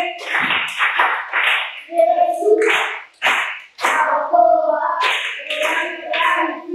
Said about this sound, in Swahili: Tuongeze makofi kwake.